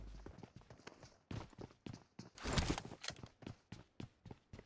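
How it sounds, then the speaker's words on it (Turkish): Footsteps in the PUBG Mobile battle royale game on a foggy map, a steady run of quick, close thuds in a regular rhythm, with a louder rustling burst midway and no talk over them. "Bir ayak sesi duydum sanki."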